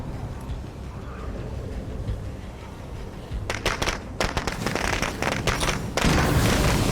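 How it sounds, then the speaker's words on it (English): Thrown firecrackers go off in a zombie survival video game, a rapid string of sharp crackling pops building over several seconds and turning louder and denser near the end, with no talk. "Switch to the firecrackers."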